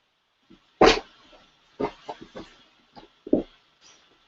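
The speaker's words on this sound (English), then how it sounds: "And now my dog is in here." A dog barks indoors: a loud sharp bark followed by several softer barks and yips spread irregularly over a few seconds, close to the listener with no talking.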